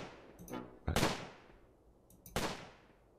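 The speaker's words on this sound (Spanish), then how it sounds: "Oigo disparos." Two sharp gunshots in the video game Close Combat crack a second and a half apart, each ringing out into a fading tail, with softer clicks before them.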